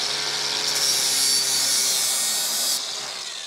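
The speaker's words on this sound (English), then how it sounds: "This is a sander for the grinder, and I'm going to knock that paint off the edge and make sure this thing is almost razor sharp." An angle grinder fitted with a sanding disc grinds paint off the edge of a new lawnmower blade to sharpen it, giving a loud, steady high-pitched abrasive whine that holds for about three seconds before easing off.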